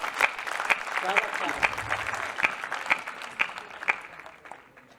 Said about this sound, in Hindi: एक बार मुझे तालियों से अनुमति दे दीजिए